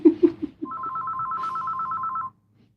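A telephone ringing indoors during a sewing session, a single close electronic trill lasting about a second and a half after a few short knocks, then cutting off into quiet.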